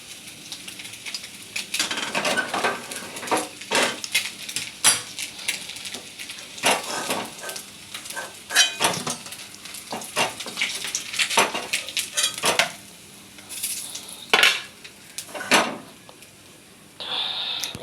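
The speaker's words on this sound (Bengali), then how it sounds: "মাছ ভাজা হয়ে গেল, এবারে তুলে নেব।" Fried fish lifted out of a pan of hot refined oil with a metal utensil: repeated sharp clinks and scrapes against the pan over a steady low sizzle, close and moderately loud, with no talking.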